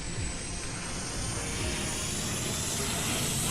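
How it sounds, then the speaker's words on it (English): A small jet engine on a simulated military transport aircraft in flight-sim game MSFS 2020 spools up, a steady loud broadband roar with a high whine building gradually, no talk over it. "you can hear the tiny little jet engine in there,"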